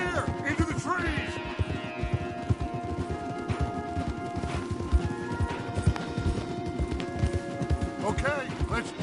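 Steady clip-clop of horse hooves at a brisk pace in a video game, fairly close, with a faint snort and some low rumbling underneath.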